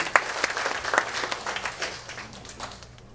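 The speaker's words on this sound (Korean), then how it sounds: "큰 박수 부탁드릴게요" A short burst of applause from an audience, loud at first and gradually fading over a few seconds, with no talking.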